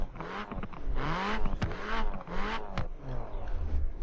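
A 2016 Renault Clio RS engine in Forza Horizon 4 revs up and down repeatedly, its pitch rising and falling in close, loud sweeps with no talk over it.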